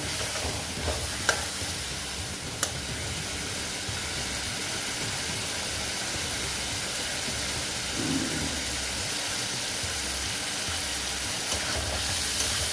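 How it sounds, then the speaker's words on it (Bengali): Tomatoes sautéing in a pan with turmeric for rui fish curry, a steady close sizzle with occasional faint scraping and a couple of sharp clicks. "তারপরে দেখো টমেটো দিয়ে দিলাম দিয়ে ভালো মতন কষিয়ে নেব"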